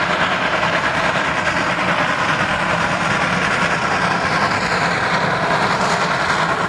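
Toy train running steadily with a continuous rattling, clattering rail-like rumble, close and fairly loud, alone without talk.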